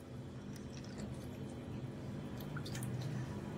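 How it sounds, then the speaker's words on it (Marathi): Quiet liquid trickles and drips as fennel syrup and cold water are poured into a glass with ice up close, soft splashy pouring continuing throughout. "त्यामध्ये मी थोडंसं सरबत ओतून घेते आणि वरून थंड पाणी घालते"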